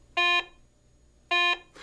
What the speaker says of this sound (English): Iron and nails produce this low-pitch audio signal.